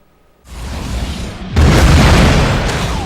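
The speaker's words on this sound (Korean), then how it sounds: "폭발과 함께 시뻘건 화염이 피어오르고" Film special-effect explosion with fiery red flames and billowing dust: a deep boom bursts in, then a second, louder blast swells into a sustained roaring rumble that slowly fades, with no voices.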